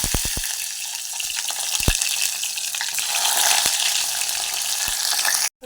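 Onions hiss loudly as they fry in hot oil with cumin and mustard seeds for a broad bean curry. Sharp pops and clicks break through the sizzle, which cuts off abruptly at the end.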